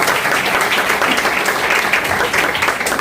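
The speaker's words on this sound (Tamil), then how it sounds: "நிறைய வந்து நல்லா கைத்தட்டுங்க அவங்களுக்கு உற்சாகம்." A church congregation applauding at an anniversary service, a full, continuous wash of clapping from many hands, steady and fairly loud with no speech over it.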